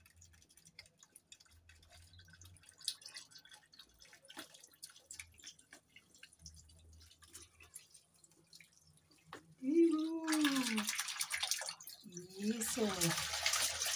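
A duck bathes in water inside an apartment, with faint drips and light splashing that turn into louder running and splashing water near the end, while someone speaks softly.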